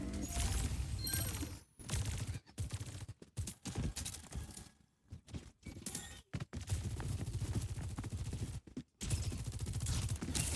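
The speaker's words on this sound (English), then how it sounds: "It's just gunfire coming in from all angles." Dense gunfire rattles from every direction during a professional Overwatch esports match, bursts of automatic weapon fire and shots stacking loudly with brief gaps of quiet between volleys.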